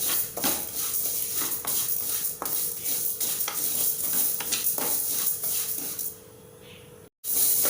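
Vermicelli fries in a pan until golden while a spatula stirs it in steady, repeated scraping strokes over a constant sizzle, close and loud, before a brief drop-out near the end.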